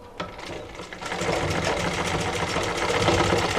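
A sewing machine runs a double line of stitching along the folded patti fabric of a size-40 blouse, starting with a few tentative stitches before settling into a fast, steady, close whir with no speech.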